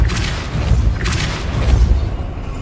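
Two or three quick Depulso spell casts in Hogwarts Legacy, each a forceful whooshing boom with low thudding rumble, close and loud against a steady rumbling game backdrop.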